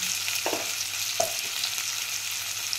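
Cut tomato frying in a pan for ginger chutney, a steady loud sizzle with a few soft stirring scrapes, close up and with no voices.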